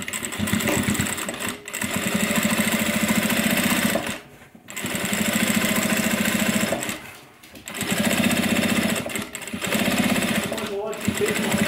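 A sewing machine stitches close to the edge of a messenger bag seam in three loud, steady runs separated by short pauses, a close mechanical whir with a fast needle rhythm.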